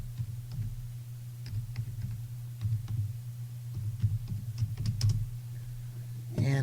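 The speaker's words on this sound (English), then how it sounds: "I'm going to type in Columbia Sportswear." Typing on a computer keyboard during a database search, a run of quick, light key clicks in an irregular rhythm with a low steady hum underneath and a louder clack at the very end.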